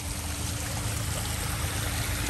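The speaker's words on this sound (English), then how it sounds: "Pretty little waterfall." A small tropical waterfall trickles steadily in a covered, shaded garden spot at Key West, a continuous soft wash of falling water with no voices over it.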